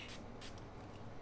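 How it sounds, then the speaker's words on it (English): Two quick spritzes of Fresh Skin Lab Glow and Tone face and body setting mist land on a makeup brush, each a short, close, soft hiss over a quiet room. "Okay, I will just spray this brush"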